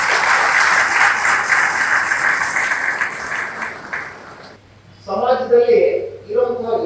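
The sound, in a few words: audience applause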